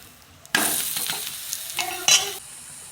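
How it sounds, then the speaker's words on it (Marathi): Thalipeeth, a multigrain flatbread made from mixed lentil flours, fries in oil on a pan over medium gas, giving a loud continuous sizzle with a few brief crackling spikes, close up, with no talking. "मीडियम गॅसवर थालीपीठ भाजून घ्यायचं आपल्याला."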